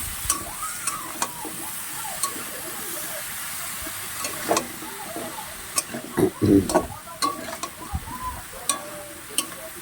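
Chopped vegetables, pumpkin, potato and Malabar spinach, are stirred in a hot pan over a raised gas flame, hissing and sizzling with scraping spatula strokes and a few louder clatters, a voice speaking at times.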